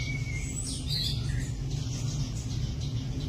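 Emerald starlings and other zoo birds call among tree branches in a short burst of thin chirps and a rising whistle, fairly faint over a steady low background hum.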